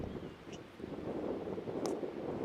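Gusty wind buffets an outdoor microphone at a Blitzball league game in Iowa, a low rumbling roar that swells and dips throughout, with no talking.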